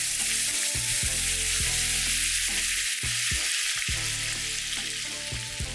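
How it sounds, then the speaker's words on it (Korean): Onion and bacon sautéing in a pan: a loud, steady sizzle that fills the background, broken by repeated clunks and scrapes of stirring at an irregular rhythm, close up. "이렇게 볶으시다가 양파가 반투명해지고 베이컨이 색깔이 변하기 시작하면"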